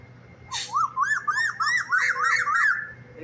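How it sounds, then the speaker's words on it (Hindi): An owl perched by a roadside gives a rapid series of about ten shrill, rising-and-falling screeching calls, close and fairly loud over a low background hum. "देखिए चिल्ला रही है उल्लू साहब।"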